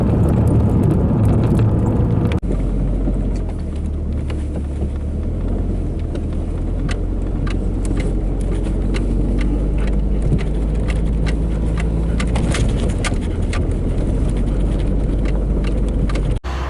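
A car with its engine running on vegetable oil ploughs through snow about a foot deep, giving a continuous loud, low rumble with steady engine drone and scattered crunching and knocking from the body throughout.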